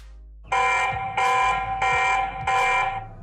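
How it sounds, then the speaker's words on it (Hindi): A TP-Link Tapo C210 security camera's detection alarm blares in four evenly spaced harsh buzzing pulses, close and piercing, with no talking. "अलार्म भी इसमें बजता है तो अलार्म सुनो आप लोग"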